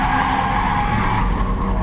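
Toyota MR2 race car spinning and skidding at Snetterton, a loud, sustained tyre screech over engine roar, continuous for the whole brief moment.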